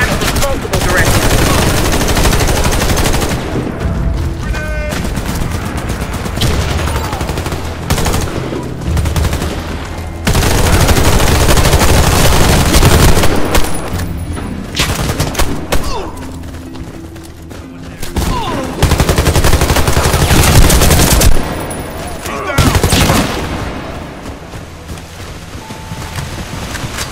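Heavy machine gun fire in the PC shooter Warface, sustained loud bursts broken by short pauses, with wind-like noise and game sounds mixed in across the whole stretch.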